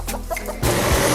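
A hen offered for sale clucks a few short, close notes, then a sudden loud burst of noise takes over the rest of the moment.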